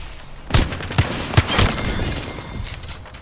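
Sharp gunshots ring out in Apex Legends, about four loud cracks spaced roughly half a second apart, followed by a fading rattle of further fire and game noise.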